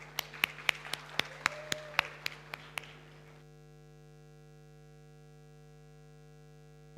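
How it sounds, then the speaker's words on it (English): Scattered applause from a conference audience greets a panel at a medtech event in Malta, about a dozen distinct claps fading out after three seconds, followed by a steady electrical hum. "Please give our panelists a warm round of applause"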